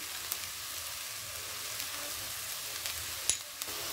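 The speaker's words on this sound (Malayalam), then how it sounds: "ഇതെല്ലാം ചേർത്ത് ഒന്ന് വഴട്ടാം." Ground masala sautéing in a pan for a Kerala-style chicken curry, a steady soft sizzle with a few faint clicks of stirring and no talk.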